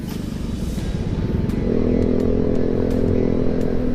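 A small group of about four motorcycles rumbles along on a relaxed group ride toward Daraitan, the engines growling steadily and growing louder as they pull away, with light clatter above.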